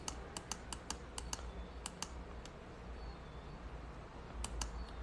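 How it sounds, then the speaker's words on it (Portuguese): Keyboard typing in an office setting: bursts of sharp, close key clicks in quick runs with pauses between, over a steady low background hum. "Peraí que ele tá digitando aqui uma coisa"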